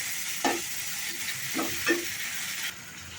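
Onions and tomatoes frying in a pan for mutton kosha, a soft continuous sizzle with a few distinct scraping stir strokes, the sizzle dropping away near the end; no voices.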